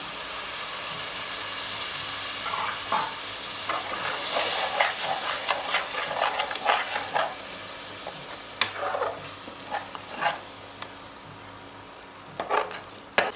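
Crab biriyani masala with curd bubbling and sizzling in a pan, a steady frying hiss broken by stirring scrapes and sharp clinks of the spoon against the pot.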